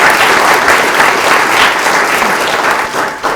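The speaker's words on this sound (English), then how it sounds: "Please give our candidates another round of applause" An audience at a candidate forum for Ottawa County sheriff and prosecutor gives the candidates a loud, steady round of applause, dense close clapping throughout with a slight dip near the end.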